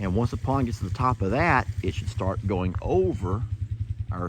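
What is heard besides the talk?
No distinct noise like a dog, phone or traffic.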